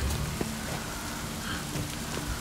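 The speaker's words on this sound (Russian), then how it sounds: "дождик, конечно, не кончился" Steady rain in The Witcher 3: Wild Hunt patters continuously at moderate volume, a dense hiss with occasional louder drops and a faint low hum underneath.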